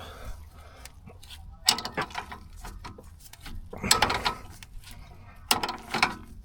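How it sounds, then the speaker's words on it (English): A nut is wound off an anti-roll bar drop link on a Land Rover Discovery 3 with a small 8mm spanner, heard as close, intermittent metallic clicks and ratcheting scrapes separated by quieter gaps. "I'm going to have to use a small 8mm spanner that holds that top hex part still whilst you get the nut off."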